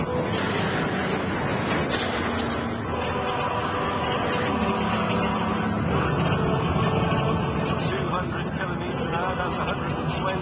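Bugatti Veyron accelerating around a banked circuit toward top speed, a loud, steady engine and road roar that holds unbroken throughout, with someone talking over it.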